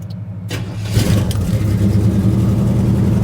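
A 1937 Plymouth car engine cranks and catches after about a second, then settles into a loud, steady low rumble with rising revs, close by and with no talk over it.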